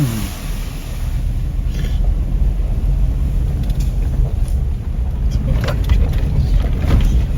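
A two-wheel-drive vehicle ploughs through a large puddle on a road in Thailand: a loud, continuous rushing wash of water and engine noise with wind buffeting the microphone throughout.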